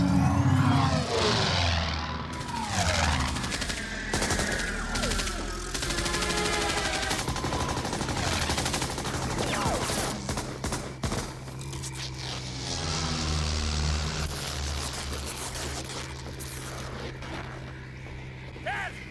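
Machine gun fire rattles through an aerial dogfight in the Indiana Jones film Last Crusade, dense and continuous bursts mixed with aircraft engine drone and music, with voices speaking over the action throughout.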